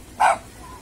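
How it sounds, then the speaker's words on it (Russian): A German shepherd gives a single short, fairly close bark against quiet background noise. "Видите, овчарка."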